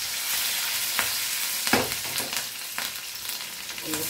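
Green chili, ginger and garlic sizzle in hot oil with a steady crackling hiss, broken by a few sharper bursts of spattering as the pan is stirred; no voices.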